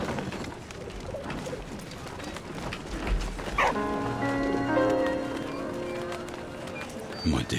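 A dog barks in the video game Valiant Hearts, set among busy in-game ambience, with sustained musical tones entering midway and continuing under the barking.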